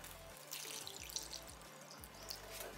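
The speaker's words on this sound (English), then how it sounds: "So let's now just quickly water them up." Water poured over freshly sown Drosera carnivorous plant seeds, a steady trickling splash running continuously throughout without any voices.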